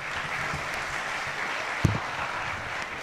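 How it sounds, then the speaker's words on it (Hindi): An audience applauding at a talk, a steady wash of clapping from many hands with one sharper clap standing out midway. "यहाँ तो तालियां बजती हैं"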